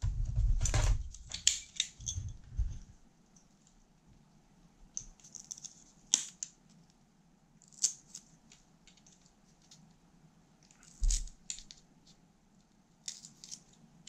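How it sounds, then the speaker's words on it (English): Snips cut the gold fingers off a computer circuit board from an ASUS PS20 mini PC, several sharp close clicks and crunches spaced out over quiet, with light handling noise between cuts. "I just snip off my gold fingers"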